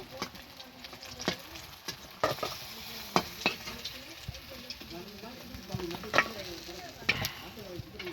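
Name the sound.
rohu fish frying in oil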